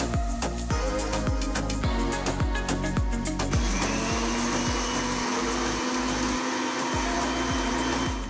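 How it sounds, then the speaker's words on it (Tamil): Loud, continuous whirring of a mixer grinder grinding raw rice in a mixie jar, with rapid rattling pulses at first that smooth into a steady high whine. "முதல்ல பச்சரிசியை மிக்ஸி ஜாரில் போட்டு அரைக்கணும்"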